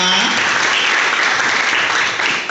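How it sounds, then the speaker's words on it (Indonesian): A university public-speaking training audience applauds the whole room, a short burst of loud, dense clapping close by with a faint voice at the very start. "Tepuk tangan buat teman-teman semua"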